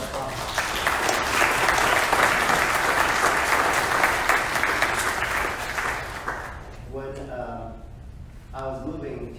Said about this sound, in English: Would you just appreciate him today with that little applause?